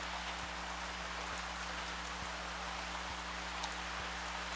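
Steady rain falling outside, a continuous broadband hiss with scattered droplet ticks and a faint low hum underneath, no voices.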